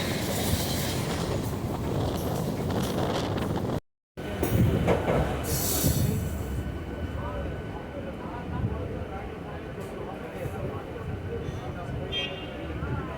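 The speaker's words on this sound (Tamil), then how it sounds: "Karaikudi Chennai Egmore Pallavan super fast express cross பண்ணுதுங்க" The Pallavan Superfast Express between Karaikudi and Chennai Egmore passes close by, a loud rolling rush with rail clatter and a sharp gust that fades into distant rumble, while someone speaks over it.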